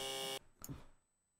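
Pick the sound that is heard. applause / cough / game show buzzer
game show buzzer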